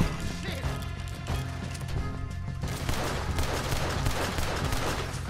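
Rapid double-action revolver fire in the Red Dead Redemption 2 video game, a string of sharp gunshots cracking in quick succession over a busy background of game noise, with no one speaking.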